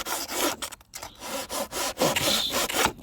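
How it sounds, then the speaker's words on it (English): A hand blade cutting away pieces of wood while shaping hills for a slot car racing track, close, busy rasping strokes in quick irregular succession with brief pauses. "I'm just using my blade and cutting away the pieces."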